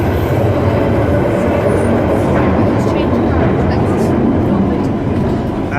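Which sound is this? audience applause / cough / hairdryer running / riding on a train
riding on a train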